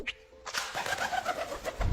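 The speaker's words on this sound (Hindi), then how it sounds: "कबूतर जब अपने पंखों को फड़फड़ा के उड़ता है तो कुछ ऐसी आवाजें आती हैं।" Pigeon wings flapping in quick bursts at close range, with soft cooing and bird calls mixed in.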